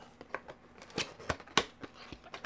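Plastic wrap being torn open on an X-Rite i1 Display colorimeter box, heard as a series of short crinkly snaps and rips up close, with no talking.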